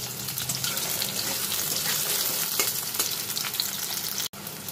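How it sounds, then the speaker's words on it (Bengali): Potato pieces fry in hot oil in a kadai, a dense, steady sizzle up close with faint stirring, running without pause and with no voices. "আলুগুলো একটু হালকা লাল করে ভেজে আমি"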